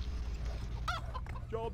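Chicken clucks in the Farmer vs Hunter video game, a couple of short, mid-loud calls over a steady low hum of game background.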